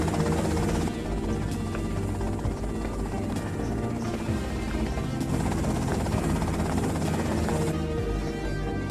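A helicopter in a GTA video game holds a steady, loud rotor drone throughout, layered with a dense mechanical whine and no talking.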